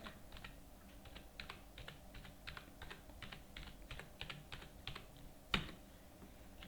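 Fingers tapping out an account number on a computer keyboard in quick, uneven bursts of soft clicks, close and quiet with no talk, ending in one sharper keystroke.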